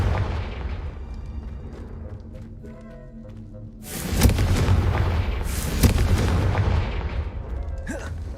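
A Confringo spell explosion in Hogwarts Legacy erupts with a sudden loud booming blast that rumbles and crackles for several seconds before a second burst, following a quieter stretch of game ambience.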